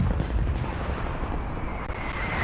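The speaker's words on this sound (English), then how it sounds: "Net call, incoming artillery." Incoming artillery fire in a Cold War combat video game, a dense continuous roar of explosions and gunfire rumble with heavy low end, loud and sustained throughout.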